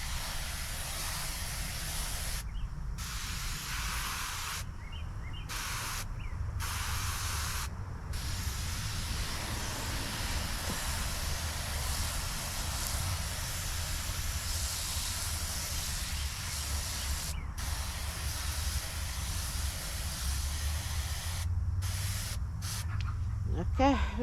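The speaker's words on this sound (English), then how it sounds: "And I'm gonna water it too." A spray nozzle watering freshly sown seeds, giving a steady loud hiss that runs almost continuously, broken by a few brief pauses as the trigger is released, with a person talking over it.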